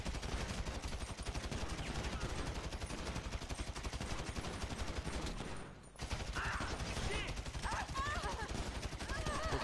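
Rapid automatic gunfire in a bank robbery in the video game GTA V: dense, continuous bursts of shots that break off briefly midway, then resume with scattered effects.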